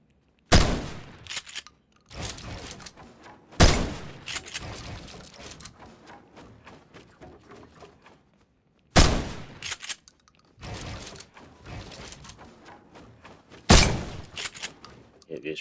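Gunfire in the video game Fortnite comes as several loud, sharp bursts with decaying tails and quieter spells between them, with speech mixed in.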